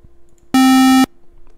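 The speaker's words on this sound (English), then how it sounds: "Square waveform." A synthesized square-wave tone from a sound generator sounds once as a steady, buzzy, harsh beep lasting about half a second, loud and isolated against near silence.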